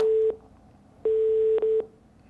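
A telephone busy signal in the Philippines: a steady tone beeps in a short on-off pattern, with a longer tone, a gap, then two quick pulses, clear and alone, as a call fails to connect.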